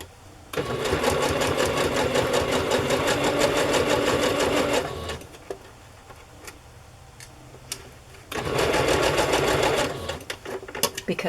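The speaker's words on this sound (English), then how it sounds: "I'm just going to do a basting stitch to catch both of those ends in." A sewing machine runs a basting stitch in two loud, close bursts of rapid rhythmic ticking, separated by a short quiet pause with small clicks.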